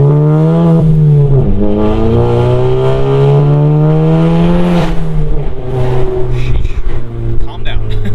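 A catless 450-horsepower BMW M4 Competition drones loudly up close, its exhaust note climbing and dipping through revs before turning choppy and crackly, with voices faintly mixed in.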